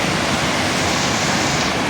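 A mountain waterfall roars steadily and loudly, a close, continuous rush of falling water with no voices over it.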